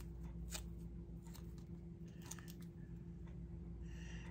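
Scissors cut Kraft paper for a scrapbook page, a few faint, crisp snips scattered over a steady low hum, with no talking.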